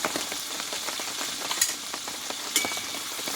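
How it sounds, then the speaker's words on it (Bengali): Mutton stir-frying in a pan with cumin paste, garlic paste and salt gives a steady, close sizzle, with soft scraping stirs recurring throughout and two sharper spatters standing out. "এই মশলাগুলো ভালোভাবে আমি একটু কষিয়ে নেবো থেকে কাঁচা গন্ধটা যদি চলে যায়"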